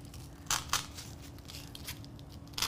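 Scissors snip through thin Dollar Tree peel-and-stick tile, a few sharp crisp cuts near the start and another at the end over a low steady background hum.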